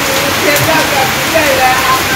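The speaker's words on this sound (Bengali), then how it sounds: "এই মুহূর্তে বৃষ্টি দিয়ে শুষিয়ে নামছে একবারে" Heavy rain pours down outdoors in a Bangladeshi village, a steady dense wash of hiss with scattered drop patter, continuous and fairly loud throughout.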